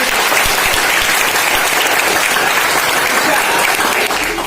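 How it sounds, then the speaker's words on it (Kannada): Loud, dense applause from a large crowd at a village function in Nelogal, sustained evenly throughout before tapering slightly at the end. "ಅಂತಹ ದೊಡ್ಡ ಶಕ್ತಿಗೆ ದೊಡ್ಡ ಚಪ್ಪಾಳೆ"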